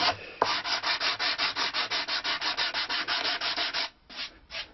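A wooden dulcimer soundboard is lightly hand-sanded in quick, even back-and-forth strokes, making a close, rhythmic scratchy rasp of about twenty strokes before a brief pause and a few final passes.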